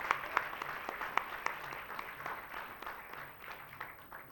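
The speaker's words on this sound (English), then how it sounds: "Let us give a huge round of applause." Audience applause for a school group on stage at an awards event on the sustainable development goals, a moderately loud, steady wash of many hands clapping with a few sharper individual claps standing out.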